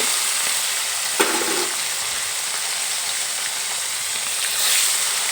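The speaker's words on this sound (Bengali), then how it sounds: "মাছগুলো ভাজা হতে থাক" Parshe fish frying in mustard oil, a steady soft hiss and sizzle throughout with one brief clink early on and a swell of spattering near the end, close with no speech.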